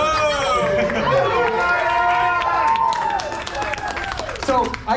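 A large crowd at a Cobra Kai convention panel roars and cheers loudly, with shouts and whoops layered over continuous applause, easing slightly toward the end while voices carry through.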